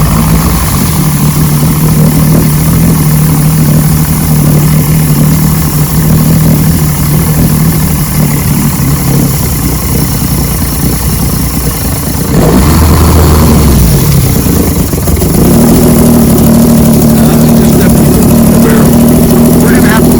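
A 1986 Force 85 hp outboard boat engine runs close and loud, idling steadily before the throttle is blipped and the engine rises in pitch, with people talking over it.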